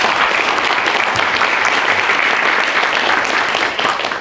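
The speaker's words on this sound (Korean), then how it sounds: "큰 박수가 필요합니다." Sustained, loud applause from a forum audience welcoming a political party leader, dense clapping filling the room steadily for several seconds before tapering slightly at the end.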